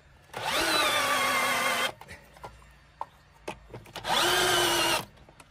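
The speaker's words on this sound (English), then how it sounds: "We're using a drill with a socket on it." A power drill fitted with a socket runs in two sustained whining bursts while removing bolts near an engine's coil pack, with a short pause of small clicks and knocks between them.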